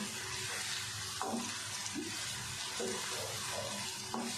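Finely chopped vegetables brown in a pan with a constant, hissing sizzle, punctuated by a few light scrapes and taps of a stirring utensil.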